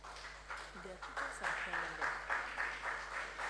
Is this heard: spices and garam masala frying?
no